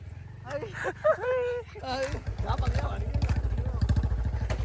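A voice calls out briefly, then a motorcycle exhaust putters in a fast, even rhythm, loud and close.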